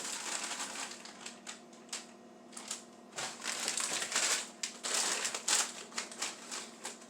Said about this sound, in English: So I'm just going to cut open each bag.